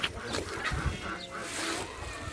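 Chickens and chicks calling in a coop, a mix of clucks, honks and peeps in short irregular bursts, close and moderately loud with no talking.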